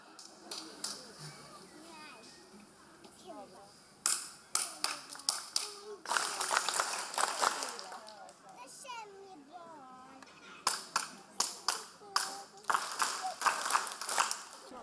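An audience at a folk dance gala claps along in a rhythm exercise, sharp hand claps coming in short bursts and steady patterned runs amid lively chatter, children's voices and the ringing of a hall.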